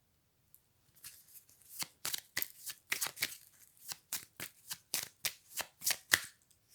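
A Persian tarot deck being shuffled by hand, a run of quick papery riffles and flutters that come in regular bursts, close and fairly quiet, with no voice over them.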